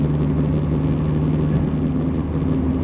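Car cruising steadily at 50 mph at low RPM, a Honda-style VTEC setup, giving a constant low engine drone and road rumble heard from inside the cabin, with no talk.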